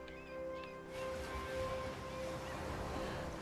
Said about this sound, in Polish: Poczekaj na te fale.